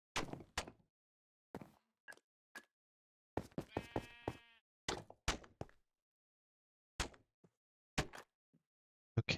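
Short, distinct sheep bleats from a block-building video game, sounding one at a time with silent gaps between them, plus a few sharp knock-like clicks.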